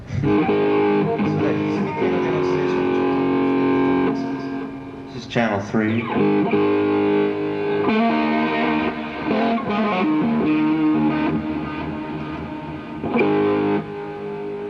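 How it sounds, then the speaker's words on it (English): Heavily distorted electric guitar chords ring out continuously with a thick, saturated tone, while someone talks briefly over the playing. "Oh, the distortion sound."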